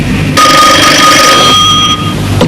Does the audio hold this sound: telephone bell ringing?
yes